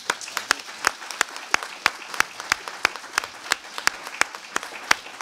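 Audience applause at the close of a talk on madness and creativity, with sharp individual claps standing out rhythmically over a steady bed of clapping, fairly near and sustained throughout.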